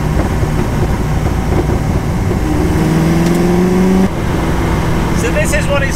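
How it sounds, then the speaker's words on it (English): Ford GT40 cruising at 70 mph in fifth gear, a loud, steady engine drone with dense road roar inside the cabin, with a brief whine-like tone partway through and someone talking over it. "So this is what it's like to cruise at 70 miles an hour in fifth gear in a GT40. It's pretty loud, to be fair."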